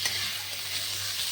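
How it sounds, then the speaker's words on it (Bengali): Grated potato and chopped vegetables being mixed together in a bowl or pan for bread pakora filling, a brief, soft, continuous stirring rustle, close by with no voices. "এগুলো মিক্স করে দিচ্ছি।"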